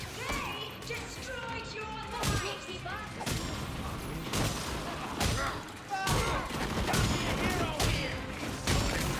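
Gunfire in the video game Gotham Knights crackles in repeated bursts and thuds across a busy battle scene, with game music and effects layered underneath and voices speaking over parts of the action.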